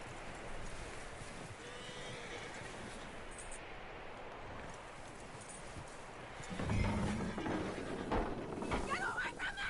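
A horse in a PS4 video game, heard as faint hoof clip-clops and snorts under soft game ambience, with a louder stretch of movement and a whinny near the end.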